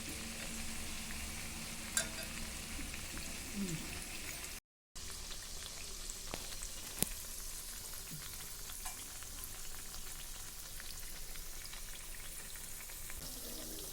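Parippu vada, lentil fritters, sizzling steadily in oil over a low flame, a soft, continuous crackle with scattered pops and a brief gap near five seconds.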